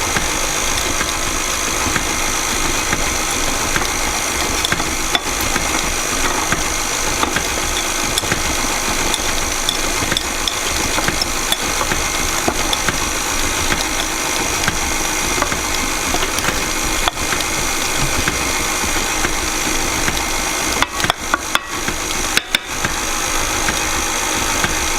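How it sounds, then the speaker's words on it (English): An electric stand mixer runs steadily on banana chocolate loaf batter, giving a constant loud motor hum and whir that continues without a break, with a few brief clatters near the end. "As the mixer's still going, add the final third of your flour mixture."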